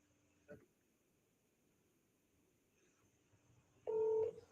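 A short burst of telephone keypad tones comes near the end of a quiet stretch, close and clear, following an earlier single faint click.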